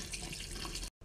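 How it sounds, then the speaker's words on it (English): Hot water gushes steadily from a kitchen tap into a sink, a loud continuous rush that cuts off abruptly near the end, then resumes briefly. "Turn on the hot water"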